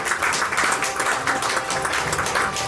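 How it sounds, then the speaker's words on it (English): Audience applause at a culinary and patisserie school's tenth-anniversary event, a short burst of fairly close, pulsing clapping that stays busy throughout. "So please give a big round of applause for Mr."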